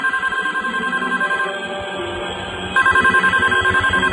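A room telephone in a Bali villa keeps ringing close by, a steady series of loud repeated trilling pulses that briefly drops back before ringing again at full strength.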